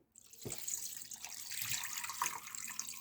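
Water pours steadily into a pot holding jars, a close, continuous splashing rush after a brief knock at the start.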